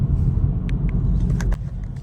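A car engine rumbles low and steady while driving, a continuous road drone with a few faint clicks and rattles over it.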